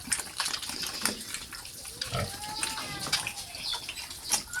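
Crossbreed native pigs of about 15 kilos grunt intermittently at close range, mixed with splashing and running water in the pen.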